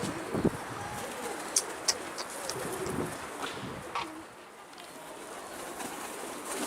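A young runaway pigeon coos softly at close range, a few low throaty calls scattered over several seconds, with faint chirps and light rustling around it.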